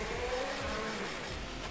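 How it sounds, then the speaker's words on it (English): A video game supercar engine in Table Top Racing: World Tour roars steadily and loudly, a constant high-revving drone with gritty mechanical texture and no pauses. "Listen to that engine."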